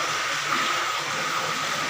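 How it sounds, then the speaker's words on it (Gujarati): An endless stream of spring water pours over a Shiva lingam at a temple shrine, a steady, close rushing flow that continues unbroken without any voices. "અખૂટ પાણી આવે છે, અભિષેક થાય છે ડાયરેક્ટ"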